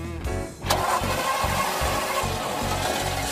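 A car engine on a long road-trip project cranks briefly with a rhythmic starter whir, then catches and settles into a loud, steady running rumble, close up with no talking.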